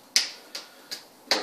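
Percussive tapping massage on the buttocks, one cupped hand striking the other: four sharp, crisp taps at a steady, slightly uneven pace, close and clear with no talk.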